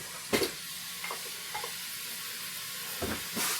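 Pork, onions and vegetables hiss and sizzle in a hot pan, with a few scraping stirs near the start and end and quieter frying in between, no talking.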